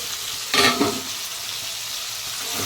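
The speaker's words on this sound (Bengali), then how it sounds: "মাংসটা যখন একটু আধ ভাজা হয়েছে তারপরে আলুটা ছাড়লাম" Meat and potatoes frying in a pan after cumin tempering with salt and turmeric, a constant close sizzle broken by a couple of quick stirring scrapes, no talk.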